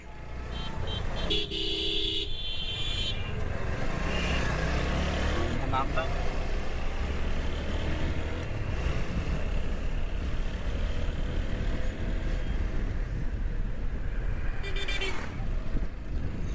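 Dense roadway rumble of idling and creeping vehicles in a 1 to 1.5 km jam on the Cox's Bazar–Chattogram highway, with several car horns honking, a couple of longer blasts, and voices talking under the noise.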